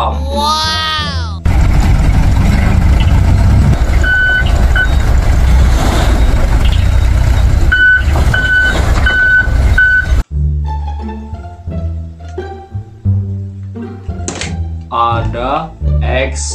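A toy dump truck whirs loudly with a motor drone and a run of evenly spaced electronic reversing beeps, then stops; a voice talks in the later part.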